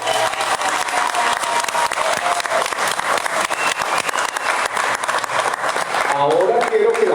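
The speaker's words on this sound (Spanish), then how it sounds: "Un fuerte aplauso para todos ustedes." Audience at a university talk on art and education in Colombia breaks into strong applause, dense clapping filling the hall, with a voice starting to speak near the end.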